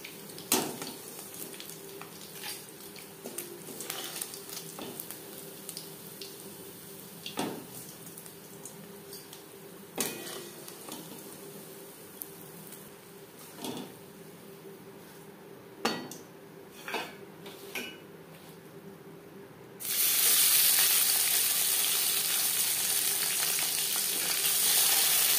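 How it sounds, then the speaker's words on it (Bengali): Small puti fish frying in a pan, with soft oil crackle and intermittent metal clinks of a utensil, then a sudden loud, steady sizzle in the last few seconds. "তিনবারে আমি মাছ ভেজে নিয়েছি।"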